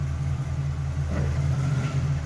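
Engine of a 1966 Pontiac Catalina wagon running steadily at low idle while reversing, a deep continuous rumble with a slight rise in pitch partway through.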